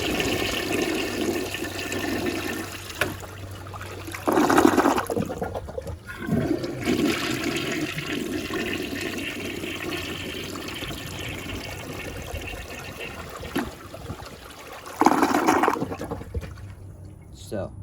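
A Rheem Claymore toilet flushes with a sudden rushing surge of water, then gurgles and trickles as it refills, with a second burst of water later and someone talking intermittently.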